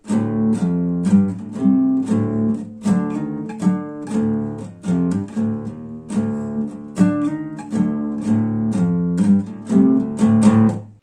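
Rhythmic acoustic music from a street busker, strummed chords and a steady pulse, played continuously and fairly close, with no talking.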